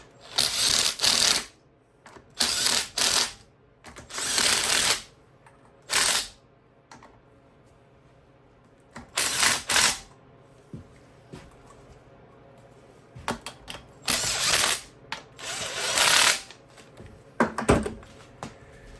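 Sump gasket bolts being wound in by hand on a Briggs and Stratton V-twin engine during an oil leak repair, bursts of quick close ratcheting clicks separated by short pauses, repeated several times.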